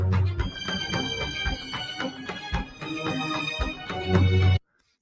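Distorted theme music from Star Wars: The Acolyte plays as dense, crunchy orchestral chords with heavy low hits and a gritty, saturated texture, then cuts off abruptly near the end.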